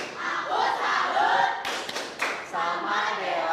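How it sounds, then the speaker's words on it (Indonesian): Classroom of schoolchildren performing a 'tepuk salut' clapping chant for a classmate: a lively burst of group chanting and rhythmic hand claps with thumps and shouts, loud and close, running the full length. "Oke, kita berikan tepuk salut untuk Dela."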